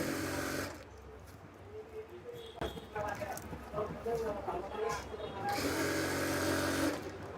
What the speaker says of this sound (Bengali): এখানে এখানে সেলাই করার সময় আপনাদের খেয়াল রাখতে হবে এই যে রাবারের উপর যেন সেলাই না ওঠে।